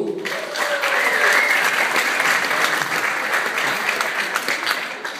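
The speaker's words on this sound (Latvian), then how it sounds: "Aplausus!" Audience at a school choir competition bursts into sustained applause, a dense steady clapping that stays loud for several seconds and tapers slightly at the end.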